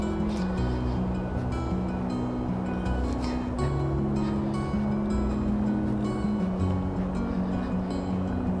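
Mississippi River water rushing down near Stone Arch Bridge in Minnesota winter, a dense, continuous roar heard close and loud, with a low droning rumble beneath it.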